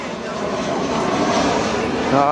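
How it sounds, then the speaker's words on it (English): A low, continuous roar from an aeroplane descending to land at a nearby airport swells slightly through the short stretch. It sounds fairly close and steady, with outdoor park ambience around it. "So there's an aeroplane there. The airport's not too far off from here. So these planes are landing."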